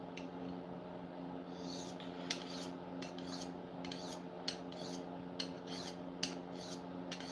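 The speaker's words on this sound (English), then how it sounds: "Am I making anyone nervous sharpening this big old knife with this tiny sharpening stone?" A big knife is sharpened on a tiny sharpening stone, giving repeated scraping, rasping strokes in an uneven rhythm, close and clear over a faint steady hum.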